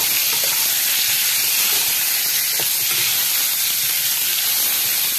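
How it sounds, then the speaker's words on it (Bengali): Cut cauliflower florets fry in a pan for a hotel-style egg and cauliflower pulao, giving a steady, close, dense sizzle and hiss with faint stirring scrapes throughout and no talking. "এবার এটাকে একটু ফ্রাই করে নেব।"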